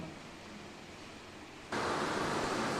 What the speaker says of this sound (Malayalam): പുറത്ത് നല്ല മഴ പെയ്യുന്നുണ്ട് അതിൻ്റെ സൗണ്ട്